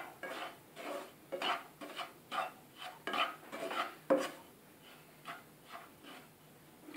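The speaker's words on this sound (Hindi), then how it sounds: "गैस को बंद करने के बाद भी आप इसको चलाते रहें," Coriander panjiri is stirred in a kadhai after the gas is turned off, a spoon scraping and clinking against the metal in a loose rhythm of repeated strokes, close and fairly quiet.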